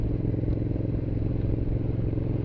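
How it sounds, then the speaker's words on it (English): A Ducati Diavel motorcycle runs with a steady low engine drone and faint clunking from its chain, continuous and close, with no voices. "That clunking is the chain, I believe."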